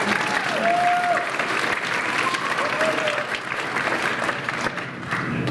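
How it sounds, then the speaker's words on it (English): Audience applause fills a school winter band concert hall, a steady dense clapping that holds at a fairly loud level throughout, with a faint tone or voice briefly rising above it. "go ahead and clap for it"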